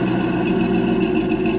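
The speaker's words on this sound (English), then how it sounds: "Flowmaster sound really good on this car." A 1969 Pontiac Firebird with a Flowmaster exhaust idles in a loud, steady low rumble with an even, unbroken drone and no voices over it.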